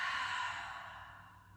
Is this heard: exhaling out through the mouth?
yes